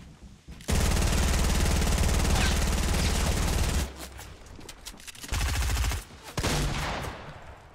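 P90 submachine gun fire in Fortnite, loud sustained automatic bursts broken by short gaps, with sporadic chatter mixed in among the shots.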